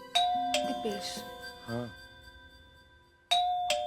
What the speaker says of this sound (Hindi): डोरबेल।